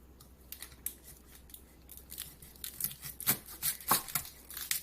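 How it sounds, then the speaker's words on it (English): A sharp kitchen knife slices an onion in half with a run of crisp, crunchy snapping cuts that grow louder and denser toward the end, close up, with no talking. "I start by cutting the onion in half."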